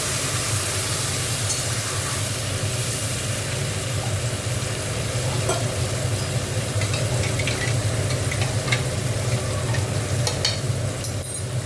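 Poppy seed paste being stirred and fried in a pan for a vegetarian posto dish with drumsticks, giving a steady, even sizzle with soft scraping of the spoon throughout.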